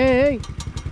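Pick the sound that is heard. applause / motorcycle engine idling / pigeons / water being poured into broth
motorcycle engine idling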